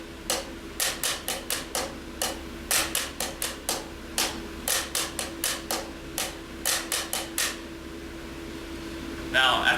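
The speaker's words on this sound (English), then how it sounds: "you can move on to doing the ghost note after the accented hit, and then a ghost note before every downbeat" Drum pattern of crisp, evenly spaced hits with quieter ghost strokes between accents, repeating steadily for several seconds before stopping, with a faint hum underneath.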